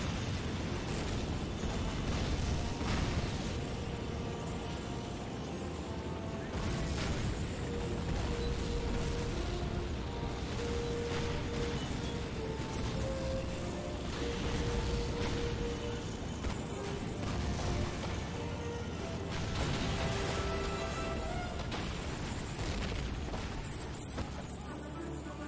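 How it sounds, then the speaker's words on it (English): Explosions and artillery-like blasts boom repeatedly across a Call of Duty 2 battlefield, a dense, continuous wall of loud bursts and gunfire under a faint voice. "Oh my god, there's just explosions everywhere."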